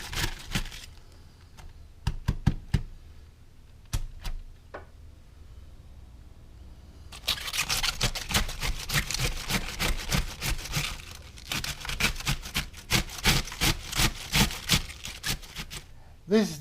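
Cabbage heads are shredded for sauerkraut, first with scattered sharp crunchy cuts, then a dense run of rapid scraping, crackling strokes, close and moderately loud.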